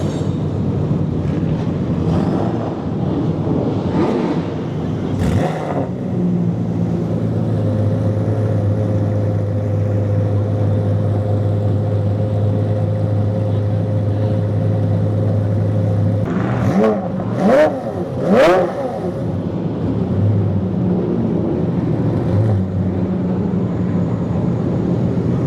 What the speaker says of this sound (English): And now the Zonda's starting.